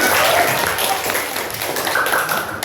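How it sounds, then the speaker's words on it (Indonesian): Students applaud a classmate in a classroom during a group presentation on avoiding alcohol and drugs, a steady broad patter of clapping hands filling the whole stretch at moderate loudness. "tepuk tangan untuk Sidan"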